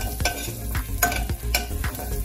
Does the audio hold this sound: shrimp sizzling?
yes